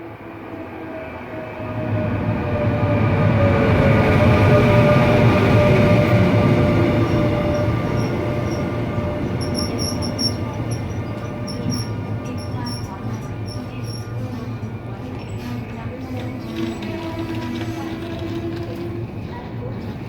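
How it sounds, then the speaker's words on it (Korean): A Mugunghwa passenger train rolls into Sintanjin Station in Daejeon, South Korea, its rumble swelling loud and close, then easing into a steady hum with faint high squeals from the wheels. "신탄진역으로 제천행 무궁화호 열차가 진입하고 있습니다."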